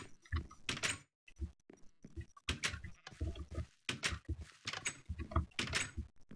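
Wooden doors being broken and placed in Minecraft give a rapid series of short, crisp clacks and knocks, close and fairly loud, with brief gaps between bursts and no talking.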